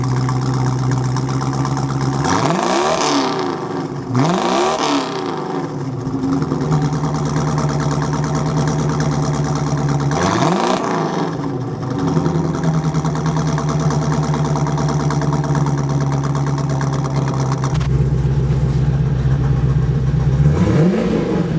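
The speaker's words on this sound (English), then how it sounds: "let me start it up and let me show you some more of this awesome exhaust" A 1984 Corvette V8 rumbles through its exhaust, close and loud, with several sharp throttle blips that rise and fall back to a steady idle. A deeper, stronger rev comes near the end.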